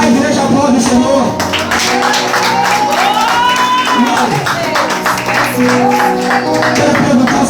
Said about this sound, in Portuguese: a igreja aplaude o Senhor